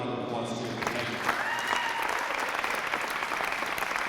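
An audience at a drug and violence awareness expo gives Ms. Peggy Soper a round of applause, a steady, full wash of clapping from a crowd with voices mixed in.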